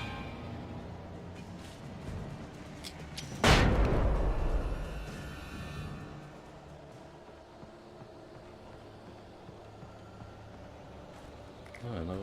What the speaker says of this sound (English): Oh, another flashbang.